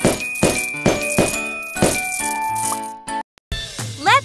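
Pops and bright coin-collecting chimes from a kitten pet care birthday party game, a quick run of sharp pops each followed by tinkling dings, ending in a short rising electronic jingle.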